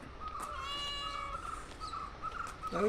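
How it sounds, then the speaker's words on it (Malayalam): A cat meows once in a long, drawn-out cry, close and clear, followed by a shorter meow at the end. "ചക്കി അനന്തുവിൻ്റെ പൂച്ച."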